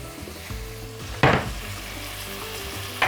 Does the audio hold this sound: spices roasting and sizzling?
yes